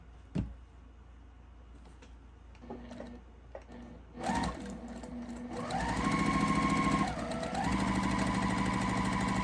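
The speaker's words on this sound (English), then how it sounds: "Let's sew them together and see what happens." Sewing machine stitching baby quilt pieces together, starting after a few small handling clicks and then running in a steady, close, loud hum with a brief pause partway through.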